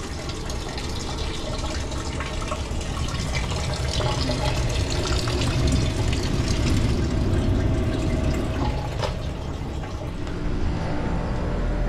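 Water drains steadily from a thawing, completely frozen HVAC evaporator, a continuous close splashing and trickling wash with a low hum underneath, no one talking.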